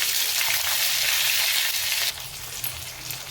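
Green chilies sautéing in hot oil in a pan for a homestyle capsicum curry: a loud, close, continuous sizzle that drops noticeably softer partway through as the chilies are turned, with no talk over it.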